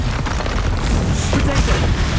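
Fire spell blasts, Incendio and Confringo, in the Hogwarts Legacy video game on PC, with loud booming impacts and crackling bursts layered over busy game sound and a voice.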